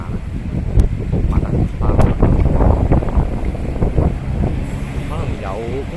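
Wind gusts across an outdoor scene near a fire incident where a fire engine stands by, a steady rushing roar buffeting the microphone while someone talks over it.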